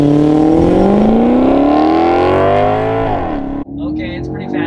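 A Maserati accelerates hard in a race against drones, its engine note rising loudly and steadily through a gear, then dropping as the next gear engages, with the recording cut short by a brief dropout.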